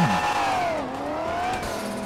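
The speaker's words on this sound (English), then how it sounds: "Right now, e-brake's engaged. I'm just revving it." A big-turbo Chevrolet S10 engine in GTA 5 revs steadily with the e-brake engaged, its pitch sliding down then climbing again in a smooth, whining drone with no talking.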